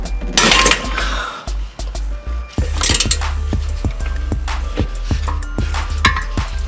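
A socket wrench turns a brake bolt on a Subaru WRX with a Brembo brake setup, giving a run of sharp metallic clicks and ratcheting ticks at close range. Clinks and light knocks break in irregularly, and a low hum runs underneath.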